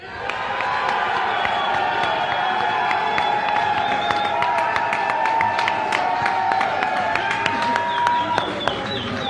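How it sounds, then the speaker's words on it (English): A studio audience erupts in loud cheering, whooping and clapping for a contestant named Amir during an applause-o-meter vote, a dense, sustained roar with sharp claps throughout that holds steady before tailing off near the end. "All right, we can do one more applause-o-meter. Only clap once. All right, let's hear it for Amir."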